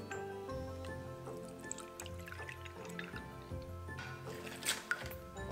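Milk is poured into coconut cake batter, giving soft trickling and dripping sounds over faint background music, close and quiet.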